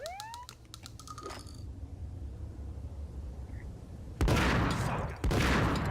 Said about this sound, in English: double firing his both, pistols